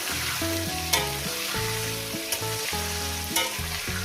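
Fish fry in a pan with a steady, bright sizzle and a few spoon clacks, under a melodic background tune.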